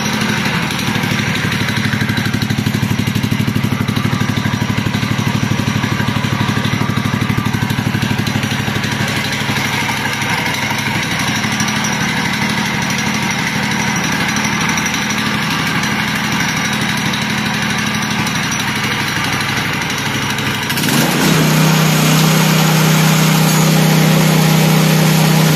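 A homemade motorcycle powered by a walk-behind tractor engine runs steadily nearby, a loud continuous rattling drone that shifts to a deeper, heavier tone near the end.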